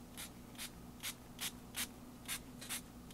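Short hissing bursts of ink sprayed onto a Crafter's Workshop stencil template, about nine quick puffs in an uneven rhythm, close and fairly loud over a faint low hum.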